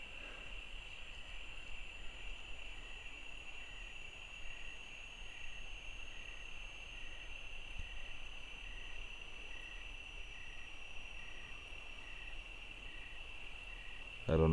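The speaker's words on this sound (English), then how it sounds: "Should be able to hear the crickets." Crickets trill at night in Auburn, California, a continuous high pulsing chorus that stays even and moderately faint for the whole stretch, with a quiet background hiss and a small thump at the very end.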